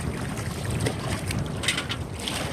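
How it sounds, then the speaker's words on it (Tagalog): Strong headwind roars steadily against a small rowed boat on shallow coastal water during the amihan monsoon, with broadband gusting noise and low rumble filling the scene continuously, no voices present. "malakas yung hangin"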